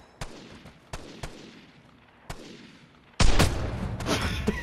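Gunfire in the video game Vigor: a few scattered distant shots, followed by a loud, close burst of rapid firing that keeps going with echoing cracks.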